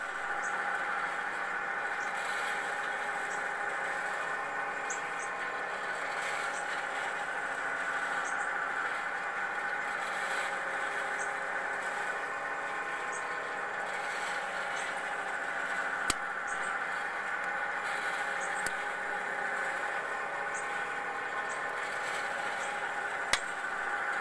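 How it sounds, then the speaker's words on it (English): A Behmore 1600 home coffee roaster's motor runs with a steady, even whir and no break, with a few faint clicks near the end. "Hopefully you can hear that over the motor. This is actually a very quiet roaster"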